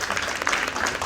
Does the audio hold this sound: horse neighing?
no